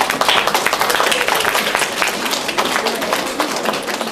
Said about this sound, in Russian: Хорошо, что встречайте аплодисментами.